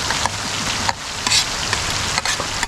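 A chickpea masala mixture fries and is stirred in a pan outdoors, giving a steady loud sizzling hiss with brief dips and scraping as it is mixed.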